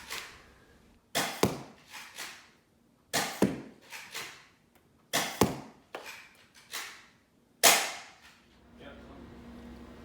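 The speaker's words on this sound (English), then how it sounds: "This is firing the grey worker bamboos out of the Dart Zone Pro MK2" Dart Zone Pro MK2 blaster firing grey Worker bamboo darts: seven sharp, loud shots spaced roughly a second or two apart, each a snappy burst with quick decay, no talking.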